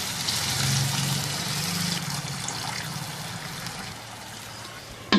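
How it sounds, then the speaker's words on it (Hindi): Water poured into a pot of daal mash with chicken, a steady near trickle and splash running for several seconds, ending with a brief louder clank. "अब इसमें शामिल कर देंगे हस्बे ज़रूरत पानी।"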